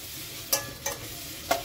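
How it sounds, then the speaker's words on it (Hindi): Spice masala frying in oil for a cluster bean curry, a steady close sizzle with a few sharp scraping strokes of a spoon stirring the pan, no talk. "ये देखिए जो मसाला है हमारा कितना अच्छे से भूनकर तैयार हो गया है और मसाले ने तेल भी छोड़ दिया है"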